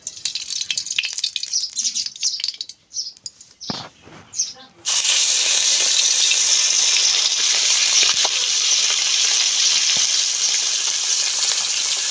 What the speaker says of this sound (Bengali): ভাজার জন্য সরষের তেল দিয়ে দিব।